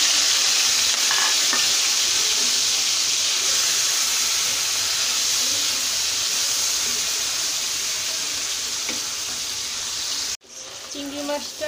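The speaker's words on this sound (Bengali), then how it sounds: "চিংড়ি মাছটা হালকা ভাজা ভাজা হয়ে গেছে" Prawns frying in hot oil for a ridge gourd and prawn dish, giving a steady, loud sizzle and hiss that continues for about ten seconds, then cuts off abruptly before a quieter stretch of sizzling resumes.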